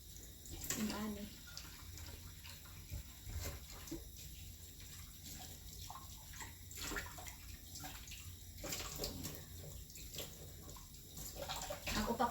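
Hot water running steadily from a tap in a home kitchen to sterilize utensils, a continuous rushing splash with a few clatters and shifts, voices faintly talking in the background.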